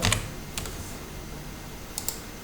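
Numbers are tapped out on a computer keyboard in a few quick bursts of close, crisp keystrokes with short pauses between them, against a quiet background.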